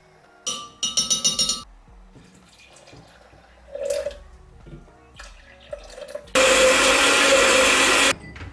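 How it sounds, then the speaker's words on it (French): Blender whirring through mandarin with its inner peel, pomegranate, cinnamon and water, a loud steady run near the end after scattered clinks and short bursts of handling. "je vais mixer la peau qui est à l'intérieur"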